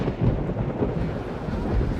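Rain and thunder from the video game RollerCoaster Tycoon Classic rumble in a dense, steady low roll of storm noise with no talking.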